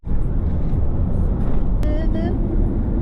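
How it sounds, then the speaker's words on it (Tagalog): Steady road traffic on the drive to a camping trip at Cohuna, a loud, close, continuous rumble of passing vehicles that fills the whole stretch, with a brief higher whine near the middle. "Traffic."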